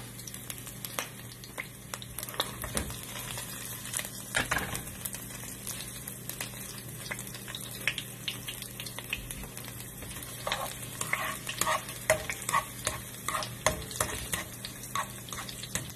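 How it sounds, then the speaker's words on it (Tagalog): Garlic toasting in a pan for a java rice topping, a steady close sizzle and crackle with occasional spatula clicks and scrapes throughout. "ito toasted natin itong bawang"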